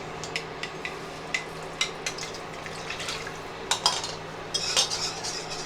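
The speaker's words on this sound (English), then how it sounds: "whisk in the chicken broth" Chicken broth being whisked into a pan gravy for pork schnitzel: rapid metallic clinks and scrapes of a whisk against the pan, irregular and close, over a faint low simmer.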